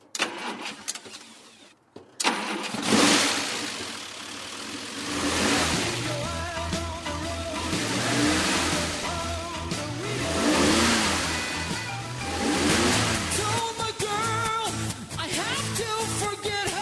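A modified 1973 DeTomaso Pantera V8 cranks and fires up after a quiet moment, then settles into a loud, rumbling idle broken by repeated throttle blips and revs that rise and fall, with music playing underneath.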